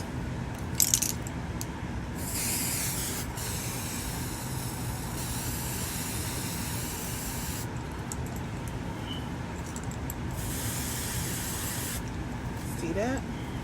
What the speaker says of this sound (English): So let me spray it down first